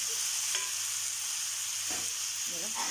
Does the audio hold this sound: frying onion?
yes